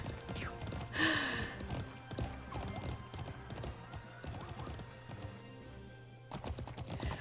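Horse hooves clip-clopping during a race in the Alicia Online video game, a steady galloping patter with a whinny near the start, fairly close and moderately loud, with no speech over it.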